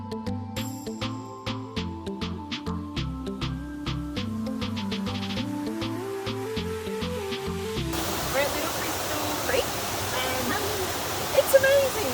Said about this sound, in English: you can hear the creek running past